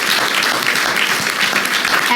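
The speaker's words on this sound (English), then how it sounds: "Let's give Kari a round of applause" An audience at the 2013 CBCF Annual Legislative Conference Africa Braintrust panel claps, producing a dense, even wash of applause from many hands that fills the whole short stretch without pause.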